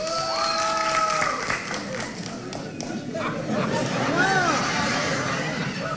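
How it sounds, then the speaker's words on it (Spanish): Applause from a live studio audience of about 300 people on a Latin variety show, mixed with crowd babble and voices talking over it at a steady, moderately loud level. "Aplaudan los que van a celebrar la noche de San Juan en la playa"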